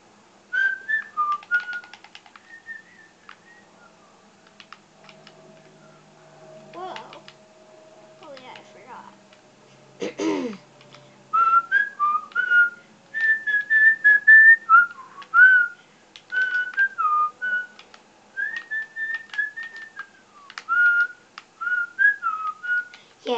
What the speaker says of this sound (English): that's why I can whistle